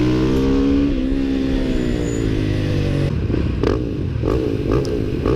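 Supermoto motorcycles at a heat race roar close by, engines holding a steady high drone before shifting into rougher, pulsing revs with clattering bursts toward the end.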